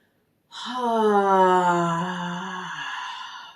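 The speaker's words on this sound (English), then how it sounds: "Breathing in deeply through the nose, letting the belly float out." A single long, smooth breath drawn in, rising and then slowly tapering off, close and fairly loud in a quiet space.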